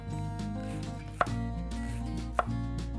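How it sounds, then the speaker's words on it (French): Two crisp knife chops land on a cutting board about a second apart as a vegetable is sliced into half-rounds for vegetarian empanadas, over a low, steady kitchen hum. "Je vais le détailler en petites rondelles, en demi de rondelles plutôt."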